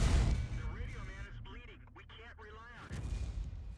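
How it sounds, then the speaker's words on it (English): In the tank battle game World of Tanks, a Foch B tank destroyer fires its gun, producing heavy booming shots that open and close the clip, with someone talking in between. "Foch B shooting us"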